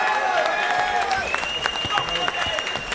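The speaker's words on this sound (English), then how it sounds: "Please give him a big round of applause." Applause from the crowd at a live boxing event fills the hall for a boxer being introduced, steady clapping layered under a ring announcer's amplified voice.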